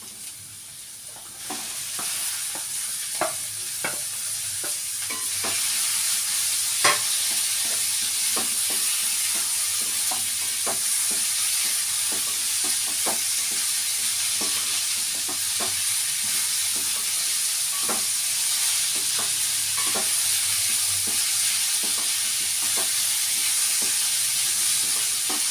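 Vegetables sautéing and frying in a pan, a continuous close hiss of sizzling oil with scattered light clicks and scrapes of stirring, steady throughout with no one talking.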